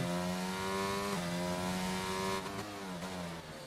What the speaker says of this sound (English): it is a Mercedes engine